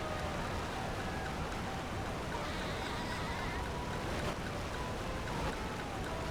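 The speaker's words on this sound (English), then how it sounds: "I hate how loud the waterfall noises are in this game." Loud video-game waterfall, a dense steady rushing roar of water that fills the whole stretch without pause, with no voices over it.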